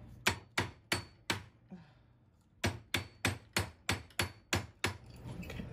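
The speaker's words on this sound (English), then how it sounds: "This needs more hammering here." A metal split-shank ring is hammered on a steel ring cone: about eleven sharp, ringing blows in a steady rhythm, close and loud, with a short pause after the first few strikes.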